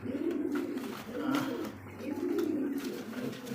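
Lahori, Blacklace and Bombay pigeons coo softly nearby, repeated low throaty calls rolling in a steady rhythm, with faint background noise.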